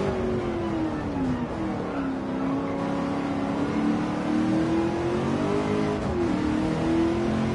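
A race car engine in Gran Turismo 7 drives steadily, its pitch rising and falling through gear changes and holding a loud, continuous drone from start to finish.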